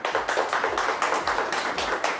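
Lively audience applause welcoming a guest, Kashif Aslam, onto a show: steady rhythmic clapping from many hands at close range, loud and continuous with no talk.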